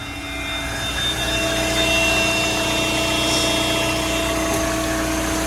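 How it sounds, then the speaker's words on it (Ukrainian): Cold engine of an Audi A-series MPI petrol car with about 171,000 km idling under the open hood, a steady loud hum with a constant tonal whine, close and without talk. "Йдемте під капот, послухаємо двигуна на холодну, пізніше ще на гарячу."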